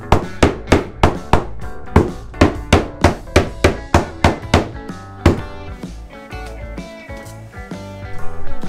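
Sharp, evenly spaced hammer blows on wooden veranda boards during a Japanese carpentry renovation, around a dozen quick taps in a steady rhythm, then a few slower hits, loud and close.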